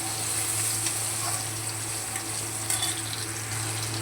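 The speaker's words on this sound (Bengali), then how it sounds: "সমস্ত আলুগুলোকে দিয়ে দিলাম। আলুগুলোকে একটু নেড়ে চেড়ে নেব।" Potatoes frying in oil in a pan, a steady, dense sizzle held at an even level throughout, with a faint hum underneath and soft occasional stirring noises.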